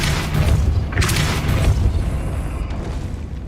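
In the Hogwarts Legacy video game, a Depulso spell goes off with a dense, booming rush over a steady low rumble. It is loud and sustained for a few seconds, then fades slightly.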